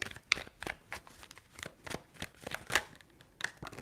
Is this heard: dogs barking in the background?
no